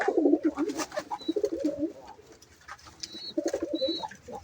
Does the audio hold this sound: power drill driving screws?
no